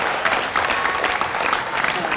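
Sustained applause from an audience at an Indonesian public forum on a council member suspected of corruption, a dense, steady clatter of clapping hands that fills the whole moment without pause.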